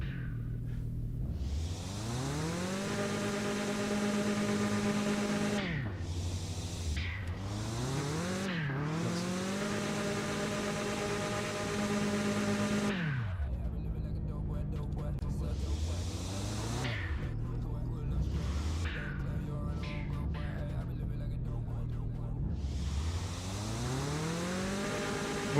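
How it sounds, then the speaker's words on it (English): A homemade race car's engine drones loudly and steadily, rising and falling as it revs up through gears with sharp drops between, harsh and buzzing throughout with no voices. "my car sounds more awful than I expected it to"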